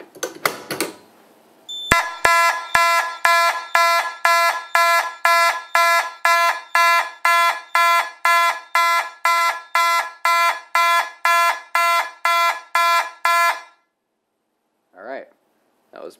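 Simplex fire alarm horns blare loudly in a steady fast march-time pulse for about twelve seconds after a pull station is activated, then cut off, followed by brief faint voices.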